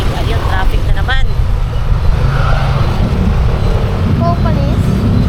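Steady road traffic in a jam: a loud, continuous low engine rumble from nearby cars, with a few brief voices rising over it.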